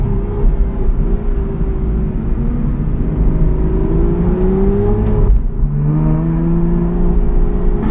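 An Aston Martin supercar in manual mode, driving in a supercar convoy, accelerates through the gears with a strong engine drone, rising in pitch, dropping at a shift, then climbing again, heard from inside without talk.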